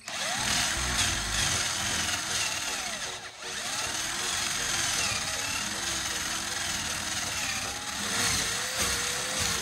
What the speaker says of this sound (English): Drill a hole in the center.